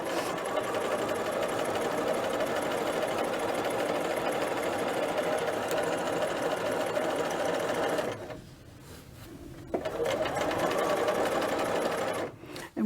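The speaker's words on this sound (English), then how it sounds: "So we want to stitch it over" A sewing machine stitches a dress collar for McCall's 8031 in a fast, steady mechanical whir that runs loud and close, breaks off briefly, restarts, then stops near the end.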